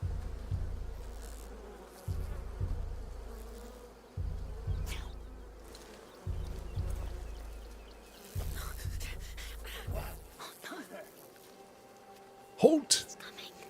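Insect buzzing from bees in the video game A Plague Tale: Requiem, a droning hum that swells in repeated pulses about every two seconds, with a brief louder burst near the end and faint talk in the background.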